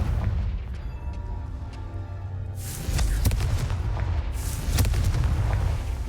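A Confringo spell goes off in the game Hogwarts Legacy, releasing two heavy, booming fire blasts around 2.8 and 4.4 seconds that cut through the rumbling game background. A fainter ringing tail follows each blast.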